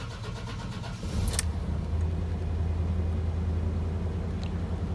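An OBS Chevy truck engine catches and settles into a steady idle, a low even rumble heard close and alone after a short cranking burst.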